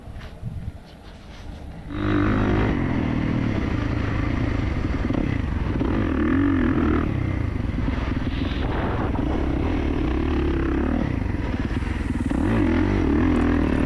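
A 2024 Kawasaki KX450 dirt bike engine runs at half throttle or less on a mild map, a loud, close, continuous buzzing drone with rising and falling revs after a quieter opening two seconds.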